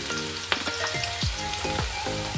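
Carrots fry in a hot wok with a loud, dense sizzle, broken by several sweeping scrape strokes of a stirring spatula.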